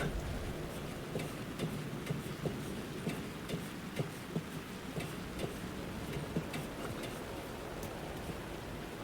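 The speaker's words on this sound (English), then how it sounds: "Rain-soaked city streets." Steady rain in the video game Alan Wake 2 falls over rooftop city streets, a continuous wash of hiss with scattered sharp drip ticks and patters throughout, no talking.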